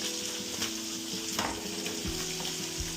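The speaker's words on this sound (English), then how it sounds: "So I've got my burgers cooking." Burger patties sizzle and fry steadily in a pan, a dense continuous crackle with occasional pops and light stirring, close and alone without any talk.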